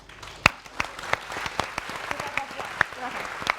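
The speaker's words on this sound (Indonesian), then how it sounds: "Kita kasih tepuk tangan untuk" A standing audience at an Indonesian talk show about Papua gives scattered applause: sharp individual claps sound close, with thinner clapping around them and faint voices.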